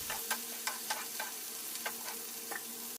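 Chopped tomato fries with onion in a pan, a steady close sizzle broken by regular scrapes and taps of a spoon stirring, about once every half second.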